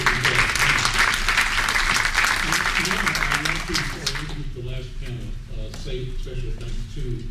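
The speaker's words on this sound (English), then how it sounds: "Give him a round of applause." Audience applause at a public panel event, loud sustained clapping that fades after a few seconds as a voice begins talking over it.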